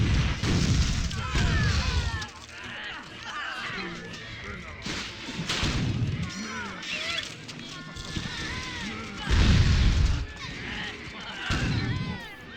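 Cannons fire during a battle in the strategy game The Settlers 7, loud repeated booms and bursts close together amid clashing battle noise, with a voice talking over them.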